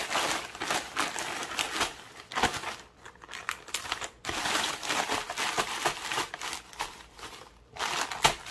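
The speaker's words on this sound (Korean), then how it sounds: "자른 대파를 봉지에 넣고 서로 들어붙지 않도록 흔들어주고 지퍼백에 넣어서 보관하도록 합니다." Cut green onions are shaken inside a plastic bag, producing close, repeated crinkling and rustling in uneven bursts with brief pauses between shakes.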